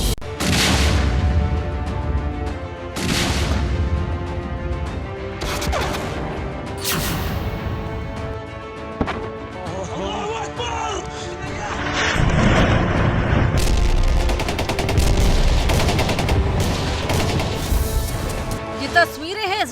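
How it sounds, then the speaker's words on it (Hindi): Israeli army attack on the Gaza Strip: heavy, repeated booms and crashing blasts mixed with bursts of gunfire, loud and continuous with short lulls between the strongest impacts. "तस्वीरें हैं इजरायल सेना के गाजा पट्टी पर हमले की, जिसने रफ्तार पकड़ ली है।"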